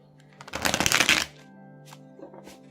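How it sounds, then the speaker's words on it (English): A tarot card deck is riffle-shuffled in one quick, crisp burst of fluttering cards lasting under a second, close and clear over a faint steady background hum. "So we're gonna shuffle her up and see what we can get for you."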